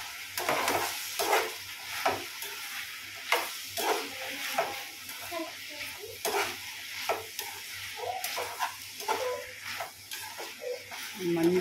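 A spoon stirs cooked tomato curry in a pan, producing intermittent scraping and clinking strokes over a faint sizzle, with a person speaking throughout.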